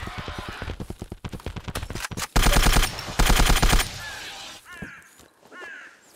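Rapid gunfire from a firearm in the video game Zero Sievert, a fast burst of close, loud shots, then two dense sustained volleys with a short gap between them, followed by quieter mechanical handling sounds.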